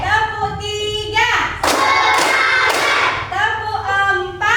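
Schoolchildren in a classroom clap together in a rhythmic counting game, a few sharp group claps in the middle with a teacher and children chanting around them.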